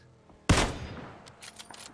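A single sharp, loud gunshot in PUBG cracks and rings out, followed by fainter distant shots and rattles.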